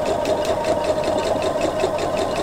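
A sewing machine stitches in the ditch along a quilt's binding strip, a steady close mechanical hum with a fast even stitching rhythm running without pause.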